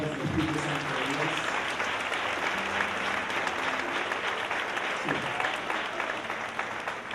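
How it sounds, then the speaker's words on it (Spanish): Loud, continuous clapping from a church congregation during a Spanish-language service, filling the space evenly, with a brief spoken word and a faint low hum of instruments underneath. "Damos un fuerte aplauso al Espíritu Santo de Dios"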